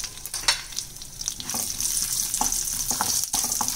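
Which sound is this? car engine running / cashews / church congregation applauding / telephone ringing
cashews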